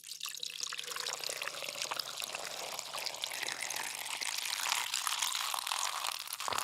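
A drink poured into a glass, a continuous splashing, fizzing stream that fills in close and steady for several seconds, with a low hum underneath.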